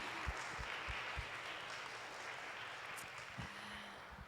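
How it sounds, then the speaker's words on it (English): Faint, steady clapping from a small audience at an online fashion talk, a soft wash of applause with a few scattered low thumps, fairly distant and quiet throughout. "let's give him a round of applause"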